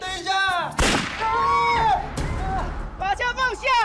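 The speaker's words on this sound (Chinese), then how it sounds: "爸爸开枪了！" A gunshot bursts out in a tense TV drama standoff, one loud sharp crack amid shouting voices, with more urgent yelling before and after.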